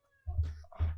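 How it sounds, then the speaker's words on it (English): A house cat meows twice in quick succession, fairly close and clear, with a faint tonal hum behind it. "Do you hear my cat?"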